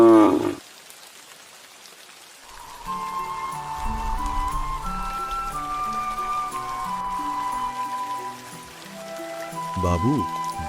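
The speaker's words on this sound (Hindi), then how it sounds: "बहुत जोर से बारिश हो रही है।" Heavy rain hisses steadily in the background while music plays over it, with a brief burst of sound at the start and end.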